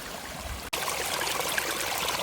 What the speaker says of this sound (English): Water flowing right out of the earth.